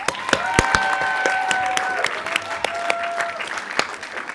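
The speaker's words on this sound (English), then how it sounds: "Let's give them all one last round of applause." Audience applause at a community volunteer awards evening, a steady wash of many hands clapping for the whole stretch, with a few sharp close claps standing out and some whistling or cheering threaded through.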